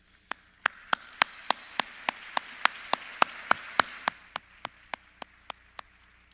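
Audience applause at the Alzheimer's Association Brain Ball gala: sharp, evenly spaced claps beat a steady rhythm over a soft crowd wash. The wash fades after a few seconds, leaving a few isolated claps.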